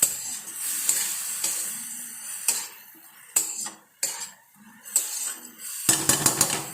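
Moong dal fries in a pan while a utensil stirs it. A soft continuous sizzle runs under irregular scraping and clinking strokes, ending in a brisk, busier flurry of stirring up close.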